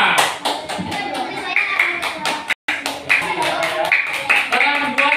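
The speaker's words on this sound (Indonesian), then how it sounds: "tepuk tangan dong untuk kita semua" Clapping and applause from a group in a school class session, a steady burst of many hands with a short break midway, heard alone at close range.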